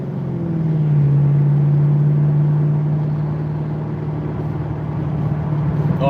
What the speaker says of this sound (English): Oh, I think the SS1LE is right next to me. You guys hear it?